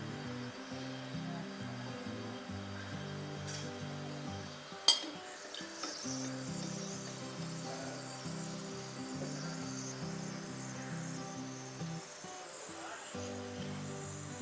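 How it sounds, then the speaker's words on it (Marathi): Wheat-dough puris frying in hot oil over a slow-to-medium gas flame, with a steady close sizzle and bubbling throughout, a sharp clink of a utensil near the middle, and occasional stirring and scraping sounds. "गॅसची फ्लेम स्लो मिडियम करत आपण पुरी तळून पुऱ्या तळून घेणार आहोत"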